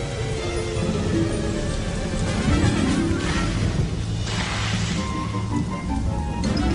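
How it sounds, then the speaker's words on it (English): Steady heavy rain pounds the ground in a dense, continuous roar, loud and close, with no voices. "Rain pounded the earth."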